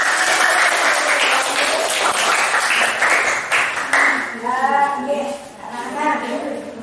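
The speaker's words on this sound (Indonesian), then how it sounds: "Kalau sudah tidak, beri tepuk tangan kembali" Classroom children clap together for about four seconds, a dense patter that thins out as a voice begins speaking over the last few seconds.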